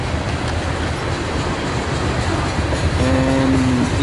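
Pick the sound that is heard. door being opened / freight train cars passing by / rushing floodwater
freight train cars passing by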